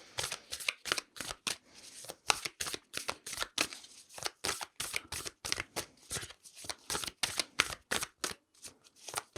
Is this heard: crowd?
no